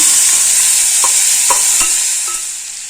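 Boiled hog plums frying over a low gas flame in a tempering of panch phoron and a whole dried red chilli, with a steady sizzle and a few distinct spoon-stirring knocks. No one speaks.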